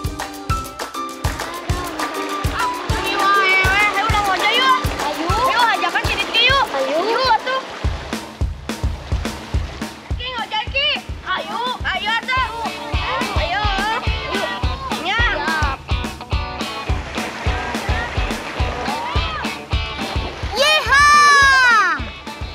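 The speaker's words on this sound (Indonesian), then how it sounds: "sungai tempat kami memasak ini sangat terjaga kebersihannya" River water flowing and splashing at an outdoor riverside cooking spot, a steady rushing stream with repeated splashes throughout, heard under almost continuous lively talk and children's voices.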